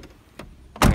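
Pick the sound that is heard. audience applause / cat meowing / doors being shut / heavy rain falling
doors being shut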